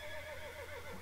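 A horse neighs in the video game Mount and Blade: Warband, one clear, wavering whinny heard close and alone.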